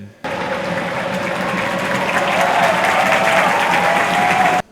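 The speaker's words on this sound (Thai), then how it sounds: "เสียงปรบมือและป้ายให้กำลังใจจากแฟนบอล SCG เมืองทองยูไนเต็ด" Football fans of SCG Muangthong United applaud steadily and loudly in a stadium, a dense wash of clapping with crowd murmur underneath that runs for several seconds before cutting off.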